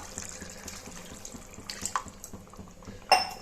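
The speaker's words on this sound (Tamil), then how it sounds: "இப்போது இன்னும் கொஞ்சம் தண்ணி சேர்த்துக்கலாம்" Water runs steadily from a tap or is poured into a pot of curry (kuzhambu), with a clink of metal near the end; close by and fairly quiet.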